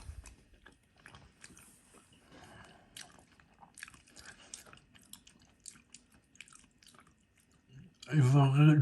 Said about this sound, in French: Donc premier test, le test du riz.